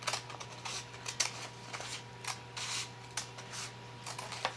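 Quiet, irregular snips and rustles of scissors cutting paper, a series of short crisp bursts over a faint steady hum.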